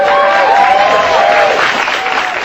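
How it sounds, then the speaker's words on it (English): Studio audience applause and cheering for comedian Norm MacDonald on a talk show, a steady dense wash of clapping and crowd noise that holds at an even level throughout. "Norm MacDonald got more applause than America."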